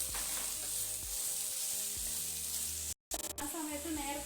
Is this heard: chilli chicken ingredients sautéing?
yes